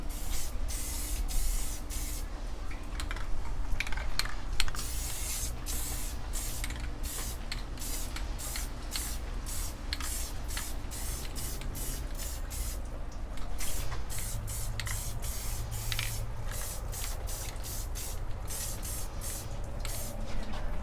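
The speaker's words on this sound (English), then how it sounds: "now we're going to be using the tractor, truck, and implement paint and putting some paint down." Tractor, truck and implement spray paint hisses from an aerosol can onto a gauge cluster and dash bezel in many short, close, rhythmic bursts over about twenty seconds.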